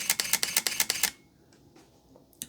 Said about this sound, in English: it can take a burst. It shutters kind of loud, but it does have a mechanical shutter